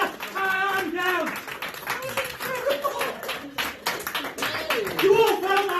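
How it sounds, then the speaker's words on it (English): An audience at a live show claps in scattered bursts, with excited shouting and a loud voice talking over the applause throughout. "Round of applause."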